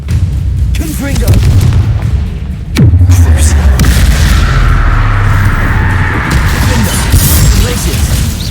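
The Confringo fire spell explodes in the Hogwarts Legacy game with a sudden sharp blast, followed by a long, loud rumbling roar, while a voice speaks over it.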